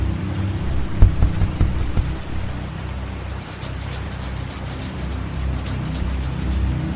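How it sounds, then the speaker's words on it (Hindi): Steady heavy rain pours without pause, a dense hiss with low rumbling beneath and a few sharper bursts early on. "बाहर बारिश की आवाज बहुत तेज थी"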